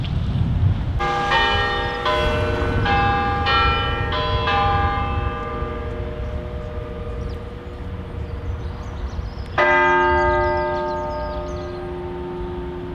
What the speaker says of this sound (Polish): co chwilę odzywają się dzwony